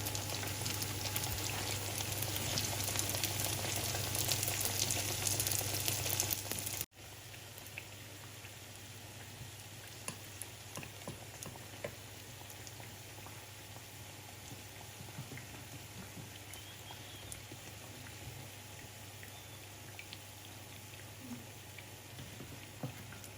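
Patongko dough sticks fry in a small amount of shallow oil, giving a steady, faint crackle and sizzle with scattered pops and no talk.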